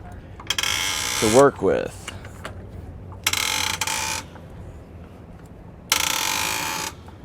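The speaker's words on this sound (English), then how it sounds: "I'm going to jack this thing up just to give us a little bit more room" A jack raises a 2022 Ford F-450 Super Duty truck by its hitch, giving three bursts of close ratcheting clicks separated by pauses, with a short whine and a brief spoken phrase between the first and second.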